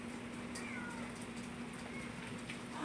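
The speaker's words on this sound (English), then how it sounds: "I hear a cat." A cat meows faintly outside during a spring hailstorm, a few short, distant calls over a low, steady background hum with no talking.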